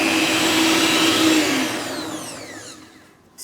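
An electric stand mixer beating softened butter for buttercream: a loud, steady motor whir that gradually slows and winds down, its pitch sliding lower before stopping near the end.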